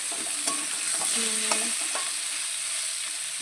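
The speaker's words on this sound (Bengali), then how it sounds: "এখানে আলু আর কাঁচা কুমড়োগুলো ভালো করে ভেজে নিচ্ছি লাইট লাইট করে" Potatoes and raw pumpkin frying lightly in a pan with chilli, a steady close sizzle with a few scraping stirs of a spatula, no voices.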